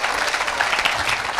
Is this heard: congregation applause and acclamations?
yes